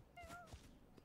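A cat meows in the video game Chicory: A Colorful Tale, a short, soft tonal call with a slight rising glide, fairly faint against a quiet game background.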